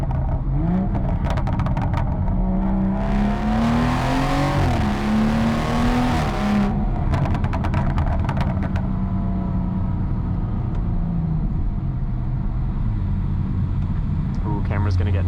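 A BMW 440i's exhaust in Sport Plus mode drones loudly with rising and falling engine pitch and sharp crackles, heard continuously from close up.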